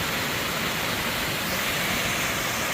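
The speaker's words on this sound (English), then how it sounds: "enjoying the sound of rushing waterfall" A rushing waterfall beside a campsite on the Appalachian Trail pours as a steady, broadband roar, constant and enveloping with no pauses and no voices.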